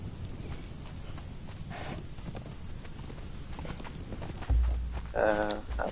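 Horse hooves clop in the video game Conan Exiles, a faint, soft walking rhythm under steady ambient noise, with a brief louder thump and a voice-like burst near the end.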